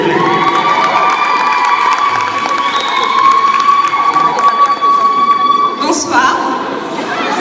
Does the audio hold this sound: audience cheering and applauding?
yes